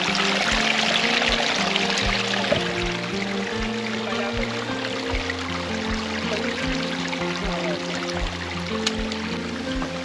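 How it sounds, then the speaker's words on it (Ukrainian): Steady rushing and splashing of water spilling down a small mountain waterfall, continuous and fairly loud throughout, with a low rumbling undertone. "Утворився водоспад."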